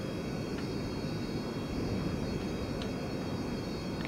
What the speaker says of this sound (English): There goes this Air France 747.